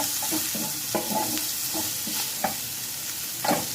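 Sausage is stir-fried in a pan, a constant close sizzle broken by sharp scrapes and clacks of a utensil stirring every second or so.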